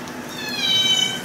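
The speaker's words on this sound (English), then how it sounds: "Those cats are so cute." A cat gives one short, high meow that rises and fades quickly over a soft, constant room hum.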